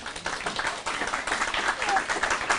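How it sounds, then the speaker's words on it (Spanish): Audience applause at an academic session, a steady wash of clapping filling the whole stretch at moderate level, with some voices mixed in underneath. "Démosle un aplauso, por favor"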